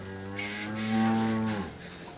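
A cow on a farm gives a single drawn-out, close and clear moo that swells in the middle and then fades out.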